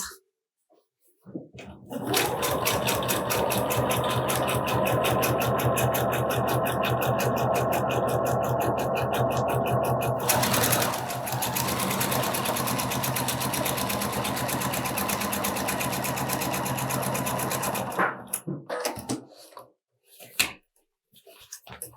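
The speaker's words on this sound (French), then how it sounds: "Et on va continuer à coudre ici à 2 mm." A sewing machine topstitching a garment facing at 2 mm, running in a fast, steady mechanical rattle for about sixteen seconds with a short pause midway, then stopping into quiet with a few small clicks.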